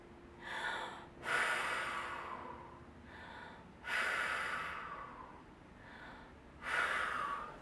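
Deep diaphragmatic breathing during a singing breath-control exercise: three long, airy breath cycles, each a sharp inhale followed by a slower, softening exhale, close and quiet with no talking.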